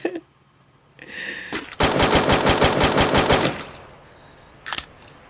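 Rapid automatic gunfire from the Free Fire video game, a dense burst of evenly spaced shots lasting about two seconds, loud and close, preceded by softer game sounds and followed by a brief sharp sound.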